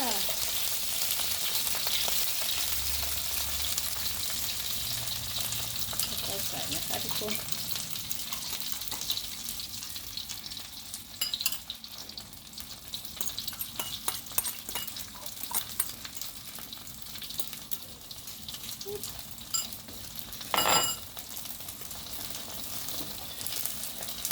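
Thai omelette with red sesbania flowers frying in a pan, a steady close sizzle with occasional stirring scrapes and bursts running throughout, no talking.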